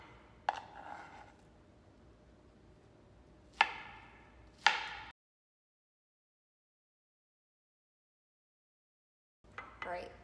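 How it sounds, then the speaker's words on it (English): A knife cuts peeled golden beets into cubes on a board, giving a few sharp, separate chops spaced seconds apart, then a long silence and a final burst of cutting. "cut them in half and then just cube them up so they're in cubes"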